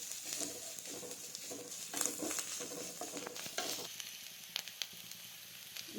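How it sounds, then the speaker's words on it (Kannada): Onions sizzle and fry steadily in a pan for a South Indian rasam tempering, with occasional scraping stirs and light crackles throughout, close and moderately loud with no talking. "ಈಗ ಈರುಳ್ಳಿ ಎಲ್ಲ ಫ್ರೈ ಆಗಿದೆ."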